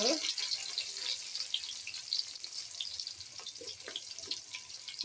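Onion frying in ghee over low heat, a continuous bright, hissing sizzle with scattered crackles that stays fairly loud and even from start to finish.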